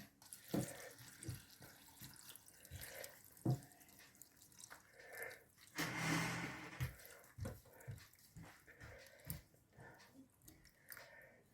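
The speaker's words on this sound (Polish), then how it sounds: "To zalewamy niecałym litrem wody." Just under a litre of water poured over dried mushrooms and bay leaves for red borscht, a quiet, intermittent splash with one fuller gush of pouring midway, amid small knocks and kitchen clatter.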